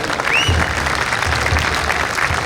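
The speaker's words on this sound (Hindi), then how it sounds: "गर्व हो तो तालियां उठाना उनके लिए" An audience at a Hindi poetry recital claps together in a short, loud burst, the scattered hand claps blending into a brisk wash of applause.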